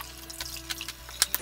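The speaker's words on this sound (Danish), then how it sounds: "Tager lige det værste vand væk," Water drained off eel pieces while preparing fried eel: faint drips and two small splashes near the end over a quiet kitchen background, no talking.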